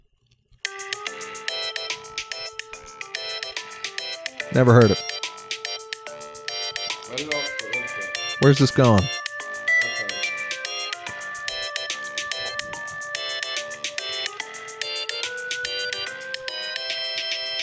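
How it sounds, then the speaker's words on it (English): A phone ringtone plays the melody of a song, steady and fairly loud for the whole stretch, with people briefly talking over it twice. "that ringtone is my alarm clock in the morning"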